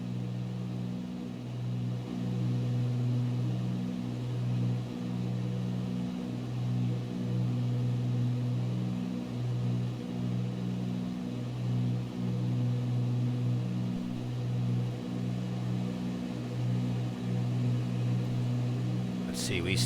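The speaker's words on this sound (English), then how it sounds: "Sit here and just look at the clouds and listen to the hum of the engines." Aircraft engines drone in cruise in the X-Plane 11 flight simulator, a steady, even hum with a slowly pulsing low throb that runs unbroken for the whole stretch.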